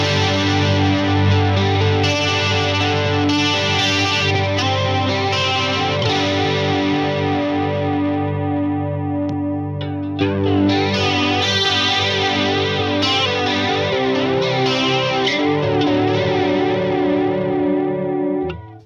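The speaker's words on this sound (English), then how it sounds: "let's try the chorus out" Electric guitar played through a chorus pedal placed after a green JRC-chip overdrive and a black op-amp fuzz, all ahead of the amp, giving sustained, shimmering, wavering chords and notes that ring steadily and loud with no talking.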